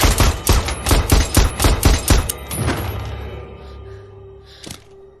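A rapid series of loud pistol gunshots fires in quick succession, then stops, leaving a fading echo and one last distant shot.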